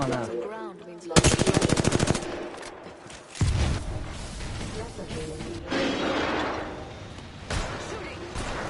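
Rapid automatic gunfire in a shooter video game: a fast burst of shots, then heavier blasts and sustained firing, loud and close, with players talking over it.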